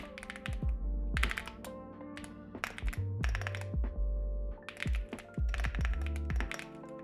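Typing on a computer keyboard with light switches, fast bursts of crisp, clacky keystrokes in uneven runs with short pauses, close and fairly loud, with no speech.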